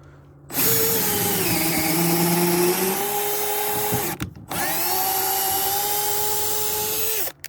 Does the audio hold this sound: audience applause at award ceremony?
no